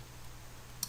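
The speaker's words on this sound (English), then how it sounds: "All I'm doing is clicking right click" A computer mouse gives a single crisp right-click while working in Inventor 3D modeling software, one short sharp tick near the end over a quiet low hum.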